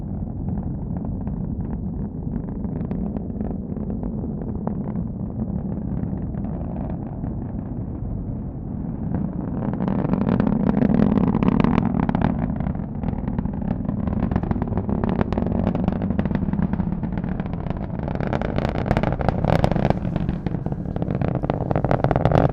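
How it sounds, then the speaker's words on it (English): Distant low roar of a SpaceX Falcon 9 rocket's nine Merlin engines during a Starlink launch from Cape Canaveral, heard from the press site as a steady rumbling wash that swells louder and rougher midway and keeps crackling to the end. "We're starting to hear those roar of the 9 Merlin engines here at the press site."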